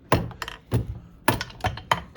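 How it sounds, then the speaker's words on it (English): Sharp taps strike a part during a 1997 Arctic Cat ZRT 600 snowmobile engine rebuild, a handful of close, irregular clicks and knocks in small clusters with quiet gaps between. "Here, you hold that up and I'll tap it"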